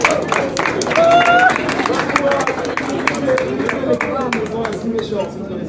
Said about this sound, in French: Et vous applaudirez ça